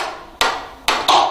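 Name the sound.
mallet tapping wood to drive debris from a mortise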